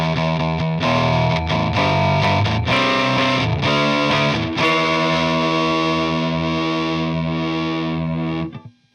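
Electric guitar played through a DOD Gonkulator ring modulator pedal, giving dense, distorted, metallic chords with clangorous overtones that ring continuously for about eight seconds before cutting off, with no talking.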